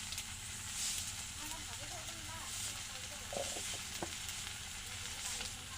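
Food frying in a pan while turmeric and salt are stirred in, a steady close sizzle and hiss with a few scraping stir clicks; a voice speaks over it.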